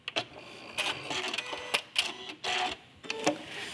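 Sewing machine quilting fabric with a walking foot: irregular bursts of rapid stitching with short pauses between runs, close and fairly quiet.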